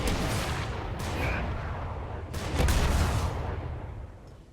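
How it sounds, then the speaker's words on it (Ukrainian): Heavy booming cannon blasts from League of Legends: Wild Rift, rumbling bursts that swell and overlap into a dense, loud barrage. "Джинкс переключається на ті довбані гармати. Не використовуй ті гармати."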